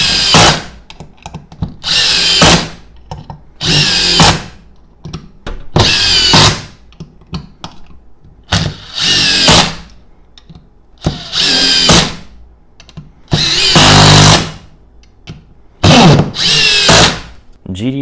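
A Makita GDT-01 impact driver drives a series of screws, each one a loud burst of rapid hammering that lasts a second or two, with brief pauses between them and a little talk in the gaps.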